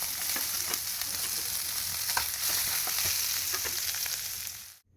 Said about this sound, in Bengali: শুকনো লঙ্কা, রসুন, পেঁয়াজ ভাজা করে নেব।